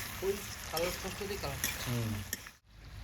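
Chicken fries in a pan for chili chicken, giving a soft, steady sizzle with crackles, fairly quiet and close, with a faint voice in the background.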